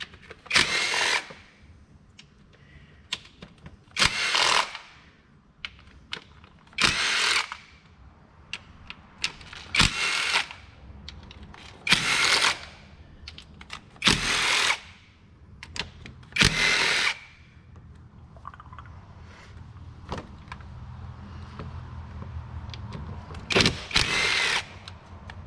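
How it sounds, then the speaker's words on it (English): An electric 3/8-inch ratchet on a Jeep Cherokee valve cover runs in about nine short whirring bursts of a second or so each, separated by pauses, loud and close. "switched over to a electric ratchet 3/8"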